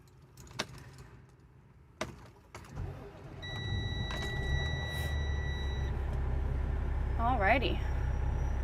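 A Renegade IKON RV chassis powers up after keys jangle, with electronic tones sounding and a low, steady hum building beneath it. A short whirring motor sweep follows near the end, and someone speaks briefly.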